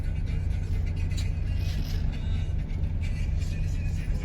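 Heavy road traffic rumbles steadily around a car stuck in a jam, with a constant low engine drone and faint rattles from inside the vehicle.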